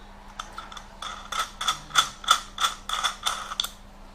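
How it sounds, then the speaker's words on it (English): Small washer and bolt being fitted onto the support structure of a stone water feature cake, giving a series of light metallic clicks and ratchet-like ticks in an irregular rhythm, close and fairly quiet, with no talk. "And then we're going to put a washer on, on the top. And then we're going to put the little bolt on."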